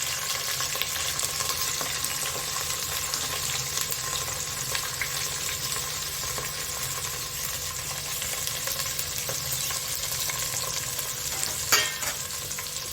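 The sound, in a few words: mixed vegetables for undhiyu frying in tempering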